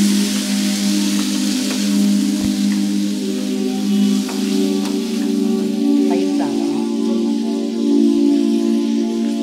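Mutton sizzles steadily in a hot pan, with a few scraping clicks as it is stirred over a constant crackling hiss.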